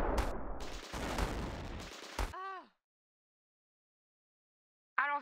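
Gunfire in the Battle Islands video game: a dense, loud fusillade of rapid shots for a little over two seconds, then silence until a short electronic tone near the end.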